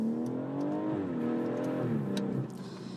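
BMW M140i hatchback with a 350-horsepower engine accelerating hard, a steady loud exhaust drone rising in pitch, dipping briefly at a gear change, then easing off near the end.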